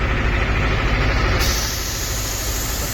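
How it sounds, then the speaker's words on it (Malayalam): A road-work truck sprays during highway tarring, its loud, steady engine drone and hiss continuing throughout, close by. "ഇതാ വീണ്ടും സ്പ്രേ ചെയ്ത് തുടങ്ങിയിട്ടുണ്ട്"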